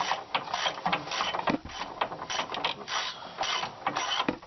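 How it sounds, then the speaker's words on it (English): A ratchet wrench works on the top rear shock bolts of a 2007 Jeep Wrangler JK Unlimited during a lift kit install, giving close, repeated metallic clicking and grinding in uneven bursts, with no voices. "Get a wrench up in there."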